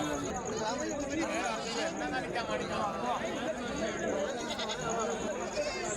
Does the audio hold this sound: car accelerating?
no